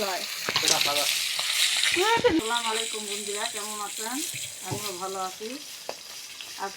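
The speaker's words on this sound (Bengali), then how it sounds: "মাছ ভাজা তুলে দিচ্ছি" Tilapia fish fries in hot oil with a steady sizzle and hiss while someone speaks over it, the crackle continuing under his voice from start to finish.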